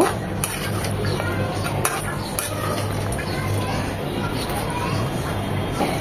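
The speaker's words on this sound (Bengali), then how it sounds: "খুব ভালোভাবে নেড়ে চেড়ে মিশিয়ে জাল করে নেব।" A spoon scrapes and clinks against a pot as milk is stirred into beef rezala, a busy rattle of metal on metal over a low simmer, with a voice talking throughout.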